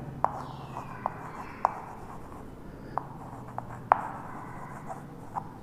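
Writing on a board in an accountancy class, marker or chalk strokes with sharp taps spaced a second or so apart over a faint room hiss.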